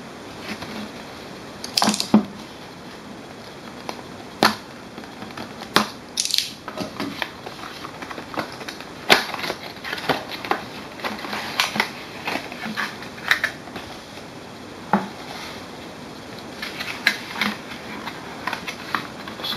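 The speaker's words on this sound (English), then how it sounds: "So let us unbox and take a look at this printer." Packaging for an HP Sprocket Plus photo printer being unboxed, with scattered crinkles, taps and rustles of box and wrapping at close range, irregular and fairly quiet, with no talking.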